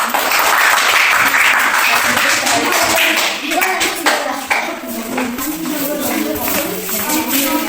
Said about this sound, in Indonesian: kita berikan aplaus buat mereka